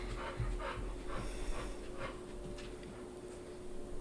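A dog pants after climbing a set of stairs, with steady, rapid, breathy huffs close by, soft and continuous with no talking.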